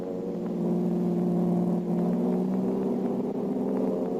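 A car engine hums and revs steadily during a radio-drama chase along a river road, with a sustained mid-pitched drone that swells slightly and then holds. No voices are heard over it.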